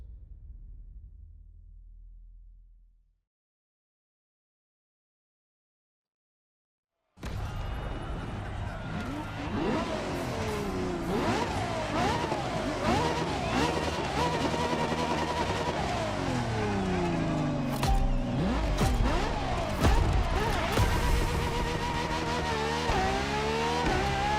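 LaFerrari hybrid supercar from 2013 in The Crew Motorfest racing game, its engine revving hard and climbing through gears with repeated rising and falling sweeps, tire squeal mixed in, loud and close after a brief silence.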